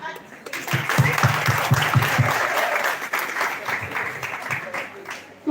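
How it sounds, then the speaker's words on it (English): An audience at a lecture session on startup revenue models bursts into applause, a dense burst of clapping that holds steady for several seconds before tapering off. "Claps."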